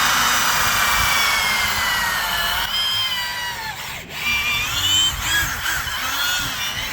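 Variable speed drill with a polishing pad buffing yellowed car headlights, a loud steady whirring whine with small shifts in pitch as the speed and pressure change, heard alone.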